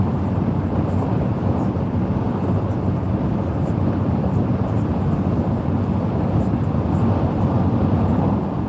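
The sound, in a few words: wind noise in a car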